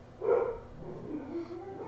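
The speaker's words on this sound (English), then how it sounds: "And let the barking continue" A single dog bark or yelp near the start, followed by softer whining vocal sounds, fairly faint and close.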